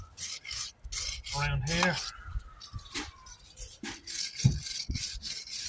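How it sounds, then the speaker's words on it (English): A tie rod thread on a Volvo V70 being scrubbed clean of rust and dust, with short bursts of rasping brushing close up between brief spoken words. "first clean up the thread here, so I haven't got a lot of rust or dust stopping the bolt from coming out"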